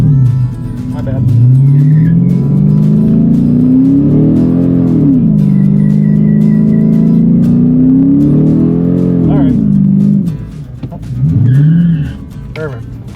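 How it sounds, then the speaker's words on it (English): A car does a burnout at a drag race, its engine revving hard and holding high with tire squeal, pitch rising and falling in long sweeps, loud and close, with voices talking over it. "Now this time when you're done the burnout, let the brake off just before you let the gas off."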